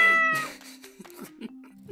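A cat lets out a drawn-out meow that trails into a lower murmuring, followed by a few softer, short vocal chirps and mews, close to the microphone with no talk.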